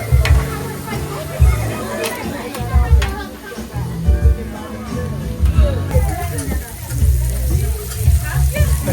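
Vegetables and rice sizzle loudly on a backyard hibachi grill as Dr Pepper is added, with steady frying hiss, spatula scrapes and bursts of crackle under nearby talk and background chatter.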